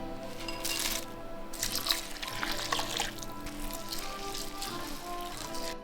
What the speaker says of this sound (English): then go in with the white wine